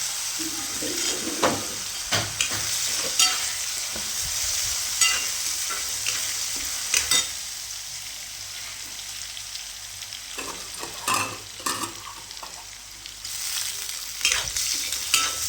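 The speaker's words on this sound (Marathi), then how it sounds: "उडदाची डाळ टाकून घेतली. त्याच्यामध्येच मी हे शेंगदाणे टाकून घेणार आहे." Urad dal and peanuts frying in oil in a pan for upma, a continuous loud sizzle with intermittent scraping stirring clatter throughout.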